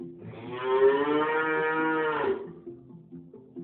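A cow moos once in a long, loud, nasal low, held for about two seconds before tapering off, with soft background music underneath and no speech.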